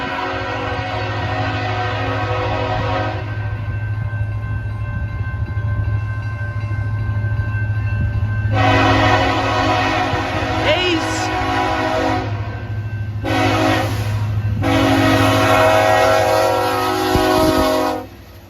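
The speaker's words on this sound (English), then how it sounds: "There's BNSF. Empty coal, moving now." BNSF empty coal freight train rolling past up close, steady loud rumble of wagons with repeated bursts of a multi-chime horn; a voice comments briefly over it.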